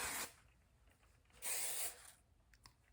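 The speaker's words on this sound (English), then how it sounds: "This is a flexible hold hairspray. It's Chi." Chi flexible hold hairspray sprayed in two short hissing bursts close by, separated by a pause, with faint clicks of the nozzle afterward.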